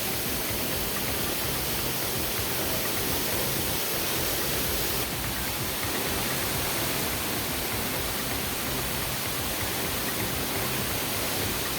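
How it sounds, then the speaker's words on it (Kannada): Water gushing hard from a burst Cauvery water main in Bengaluru, a steady, dense roar of rushing and splashing that stays loud and unbroken throughout. "ನೀರಿನ ರಭಸ ನೀವು ನೋಡ್ತಾ ಇದ್ದೀರಾ"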